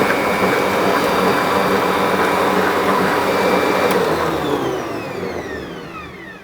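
An electric mixer whirs loudly and steadily as eggs are beaten into cake batter, its motor tone sliding down and fading toward the end.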